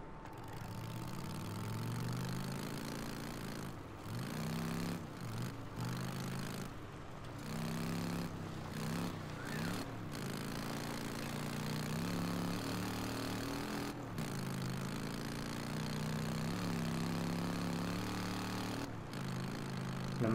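A motorcycle engine in the game Days Gone runs continuously at a low, steady rumble, rising and falling slightly in pitch as it cruises, fairly quiet and heard alone without talk.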